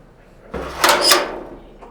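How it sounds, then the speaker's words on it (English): A heavy door on a research ship, the RRS Sir David Attenborough, swings open or shut with a loud, sustained metallic scrape and rush lasting about a second, close by and with no voices over it. "That's a very heavy door indeed. This is one of the heavier doors on the boat."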